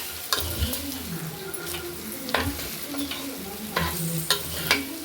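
Roasted rice is stirred with onion and peas in a hot pan, giving a soft steady sizzle broken by repeated scraping strokes of the spoon against the pan, with no talking.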